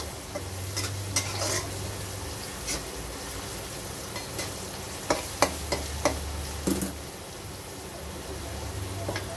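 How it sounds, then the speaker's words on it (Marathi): Beans and vegetables fry in a pan with steady sizzling, while a spatula scrapes and stirs now and then, giving several short sharp clatters over the constant hiss. "तर बऱ्यापैकी आपली बीन्स पण फ्राय झाली आहे, जास्त फ्राय नाही करायची"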